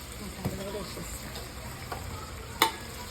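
Boti (goat tripe) curry cooking in oil in a pan with chili powder added, a quiet steady sizzle with occasional faint clinks and stirring sounds.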